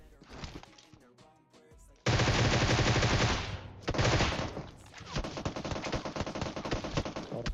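Enemy gunfire in PUBG Mobile, a battle-royale shooter: loud sustained bursts of automatic rifle fire crack in rapid succession, starting with scattered shots and then erupting into dense, continuous volleys that dominate the mix.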